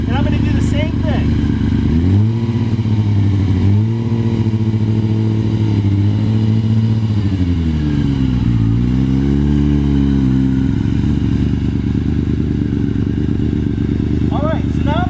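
A Yamaha R6 sport bike engine idles and blips loudly at close range while the rider turns with the bars at full lock, its steady mid-pitched drone rising and falling with throttle, with someone talking over it.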